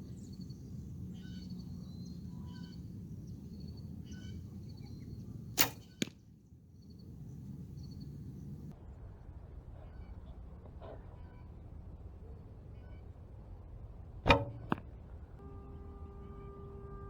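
Arrows loosed from a homemade bow, heard as two sharp, brief snaps a few seconds apart and a later louder crack, over steady outdoor background noise with faint birdsong.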